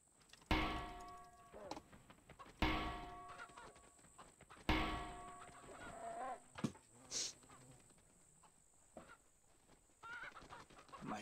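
A comically large green chicken in the horror game Pacify lets out several loud honking clucks in bursts, mixed with game noises and a player talking over them.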